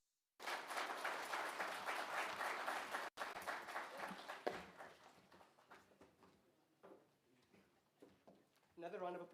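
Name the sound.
applause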